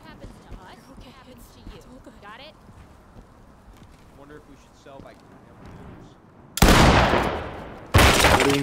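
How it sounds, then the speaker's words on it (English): A shotgun blasts open a door lock and a flashbang detonates in a Ready Or Not police raid: two loud, sudden bursts near the end after a quiet stretch with faint voices. "Shotgun breach. Blow the lock. Deploy flashbangs."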